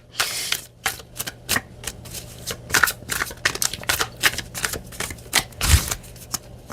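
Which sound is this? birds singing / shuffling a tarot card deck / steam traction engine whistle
shuffling a tarot card deck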